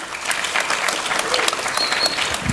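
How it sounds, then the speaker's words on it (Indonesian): An audience at a campus visit event by MAN 3 Tulungagung students to UIN Sunan Kalijaga claps steadily, dense and close, with a faint voice underneath. "Oke Mbak, ini boleh tepuk tangan dulu buat kita semua ya."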